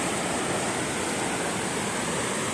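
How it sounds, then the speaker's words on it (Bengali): Rain-fed floodwater rushing down in Bangladesh makes a loud, close, continuous roar like a waterfall, a steady dense wash of noise with no pauses and no voices. "এই যে পানি যে নামতেছে বাংলাদেশে, প্রচুর পরিমাণ শব্দ"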